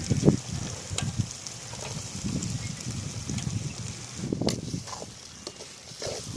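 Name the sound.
onions and carrots sautéing in a pan for veg puff filling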